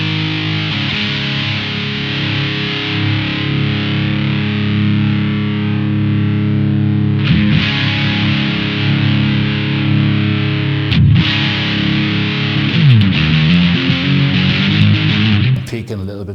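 Big Muff fuzz emulation on a Source Audio pedal, a dense, sustained wall of fuzzy guitar with held chords and a few sharp attacks. The fuzz stays loud throughout, and a voice talks over part of it.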